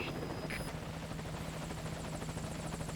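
Helicopter arriving at a landing zone in the video game Metal Gear Solid V: Ground Zeroes, a steady rhythmic rotor thump with a constant engine whine, moderately loud and unbroken throughout.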